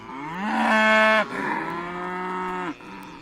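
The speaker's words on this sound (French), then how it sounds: "j'ai démarré avec les vaches Highland parce que voilà, je voulais des vaches rustiques" Highland cattle on a farm that grazes vineyards and cleared scrubland give two long, close, loud moos, the first rising and sustained, the second slightly lower and steadier, with no talking.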